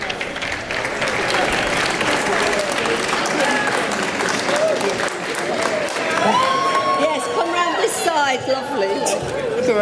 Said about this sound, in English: you will hear them being greeted by the crowd